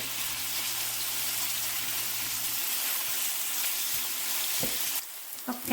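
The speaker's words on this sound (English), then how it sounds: "we're going to add the rest of our onions in here. Let these start to fry up" Onions fry in hot oil for keema, giving a loud, continuous hiss and sizzle that quiets near the end, where a few stirring knocks and scrapes come through.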